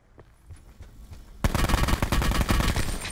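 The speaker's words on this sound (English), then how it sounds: "I'm getting shot from 20 different ways." Rapid automatic gunfire bursts loud and close in the Blackout battle royale video game, starting faintly with scattered distant shots and then erupting into a dense, continuous volley for the remaining seconds.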